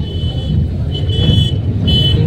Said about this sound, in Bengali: পার্কিংটা গাড়ি আগে করে নিই